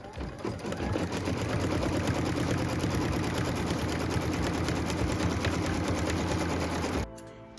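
A sewing machine runs steadily while stitching a line on a quilt block, its rapid mechanical needle rhythm loud and close for about seven seconds before stopping abruptly.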